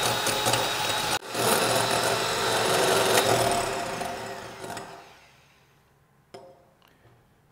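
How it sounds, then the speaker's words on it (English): An electric whisk beats egg whites to stiff peaks with a loud, continuous motor whir that holds steady, then winds down and fades to quiet with a couple of light knocks. "Now I whisk until it forms thick peaks."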